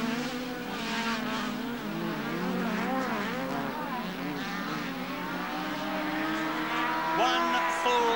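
Rallycross cars race at Lydden Hill in 1980, their engines revving and wailing through rising and falling pitch sweeps as they drive through the corners, loud and continuous across the whole stretch.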